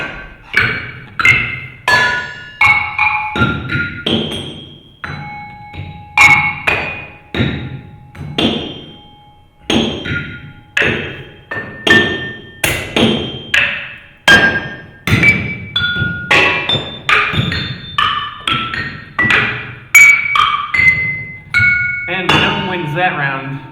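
Two percussionists strike and break tiles in a percussion game played with bodysuits, producing a rapid run of loud, close thuds and hard knocks with ringing, glassy pings, continuous throughout with brief pauses.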